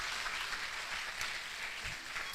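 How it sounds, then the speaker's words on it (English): Steady applause from the audience at a university medical induction ceremony, a brief dense wash of clapping with no talk over it. "Let's give a round of applause to the Vice Chancellor."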